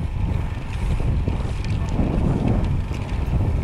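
Strong coastal wind buffets a bicycle rider's microphone on a seaside road, a loud, constant low roar with gusty swells throughout and no speech.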